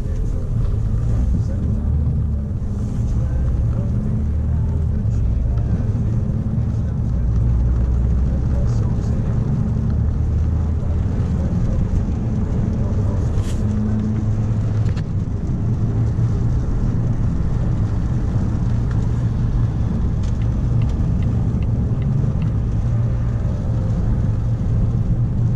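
A Volvo V90CC rolls along on a test drive, a continuous low road and engine rumble with steady tire noise filling the whole stretch from inside the cabin.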